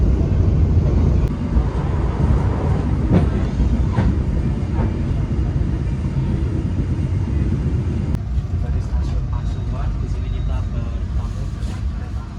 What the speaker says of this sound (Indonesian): kereta api Icana Express telah tiba dan berhenti di stasiun Pasuruan